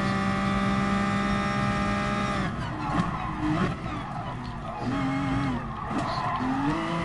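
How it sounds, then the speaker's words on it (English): Car tires squeal and skid as the rear wheels lock and the car spins out in Gran Turismo Sport, a high engine whine giving way to warbling tire screeches over continuous engine noise. "the rear wheels lock up and it spins out of control"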